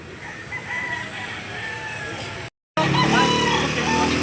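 Busy outdoor chicken market in Lipa City, Batangas, with roosters crowing and hens clucking amid a murmur of people and traffic, briefly cut by a gap of silence.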